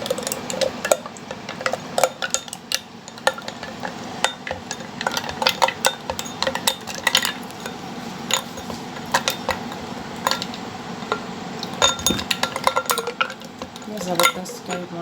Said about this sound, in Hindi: अब इसको हम करेंगे मिक्स।